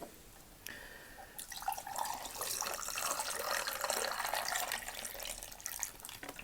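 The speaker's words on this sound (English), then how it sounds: "I'm just going to add the water" Water pours from a tap into a glass of peach tea, a soft gurgling trickle that rises into a steady splashing stream, faint and close with no voices.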